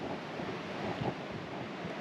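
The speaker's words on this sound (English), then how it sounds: "But it's super, super windy." Strong wind in the Spanish mountains, a steady, loud roar buffeting the microphone with slight gusting swells and no voices.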